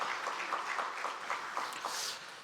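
A church congregation claps together to welcome a visiting pastor and his wife during a Sunday worship service, a steady crackling wash of applause lasting a few seconds and fading slightly at the end.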